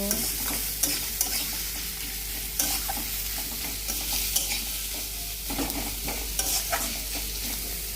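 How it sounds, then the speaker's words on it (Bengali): Onions stirred while frying in a pan for a fish curry, with a constant bright sizzle and regular scraping strokes of a spatula, close up and uninterrupted. "বন্ধুরা, পেঁয়াজটাকে নেড়ে নেব"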